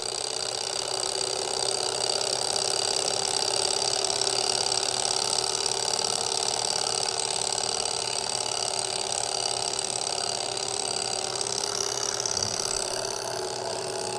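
A small candle-powered Stirling engine runs at about a thousand RPM. It makes a steady, even mechanical whir with a fine ratcheting texture, close and continuous throughout.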